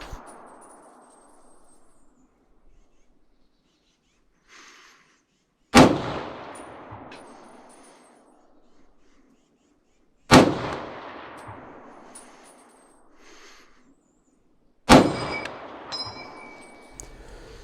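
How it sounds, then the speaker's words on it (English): Three sharp, loud M1 Garand rifle shots a few seconds apart, each ringing out with a long echoing decay, and a faint metallic clink of the rifle action between them. "The gunfire and sounds with the action of the rifle are clear and crisp."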